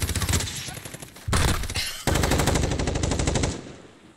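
Automatic weapon fire in a PC video game, with a dense machine-gun burst, then heavier bursts that come in clusters over about four seconds before cutting off near the end.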